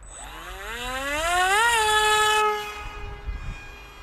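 ZOHD Talon GT Rebel RC plane motor at half throttle, a loud rising whine that climbs in pitch over two seconds, holds steady, then cuts off and fades, with no talking.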